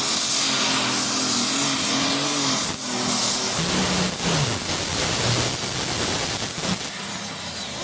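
Pulling tractor at a tractor pull in Herning, with a loud, sustained engine roar that holds steady throughout and shifts in pitch partway through, with no talk over it.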